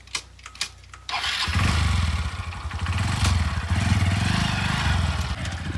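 A freshly serviced motorcycle kicks into life after a second of quiet, then settles into a loud, steady, close idle with a rattling mid-range rumble.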